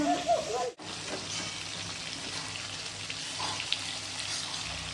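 Hilsa fish frying in oil in a home kitchen, a steady close sizzle running throughout after a brief clatter at the start, with faint stirring underneath.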